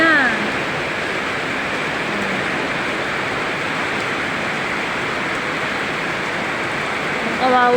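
A sudden heavy rain downpour roars steadily and loudly during flooding from a typhoon, a dense, continuous wash of noise with a faint voice at the very start and end.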